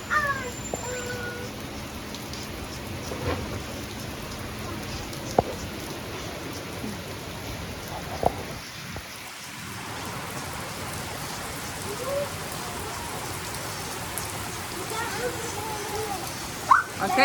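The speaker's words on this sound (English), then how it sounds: "So I just wanted to show you how it looked out in the rain." Steady rain falls outside in a backyard in the Dominican Republic, a soft continuous patter across the whole stretch with a few sharper drip knocks, heard at moderate level.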